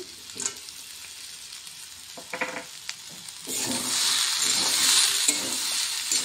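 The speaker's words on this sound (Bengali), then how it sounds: "বাদাম দিয়ে এখন সুন্দর করে নাড়াচাড়া করে নেব।" A spoon clatters and scrapes in a pan a few times as fried peanuts are added to a ghugni curry, then a loud steady sizzle of frying takes over as the food is stirred.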